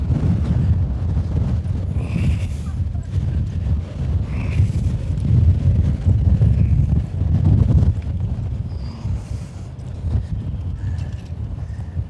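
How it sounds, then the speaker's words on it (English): Strong wind buffets a bicycle rider in Amsterdam, a loud, gusty roar and microphone rumble that swells and eases over several seconds, close and continuous, with faint mechanical clatter and no talk. "the wind's just picking you up and taking you"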